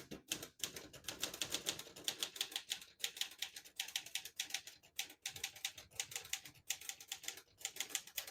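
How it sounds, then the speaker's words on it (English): Rapid, light key strikes on a 1964 Olivetti Lettera 32 vintage portable typewriter, a close, continuous patter of crisp clacks with brief pauses. "It's almost euphoric typing on this."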